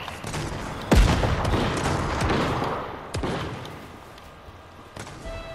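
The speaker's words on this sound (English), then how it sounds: "He's using a heavy shotgun up close." Heavy shotgun blasts fired up close in Fortnite: three loud, booming shots spaced a couple of seconds apart, each with a rumbling tail that blends into ongoing battle noise.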